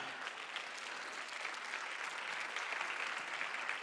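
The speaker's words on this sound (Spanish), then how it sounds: "Vamos a dar un aplauso fuerte ahí a la cultura" Sustained audience applause at a business talk, steady dense clapping throughout with no voices over it.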